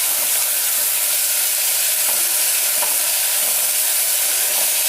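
Fenugreek (methi) leaves with a little mint and coriander frying in a pan for methi pulao, giving a steady close sizzle with faint stirring scrapes throughout and no talking.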